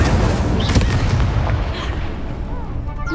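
A fire spell cast in the Hogwarts Legacy video game gives a dense, steady roar with a sharp burst near the start, heard close and loud amid continuous game noise.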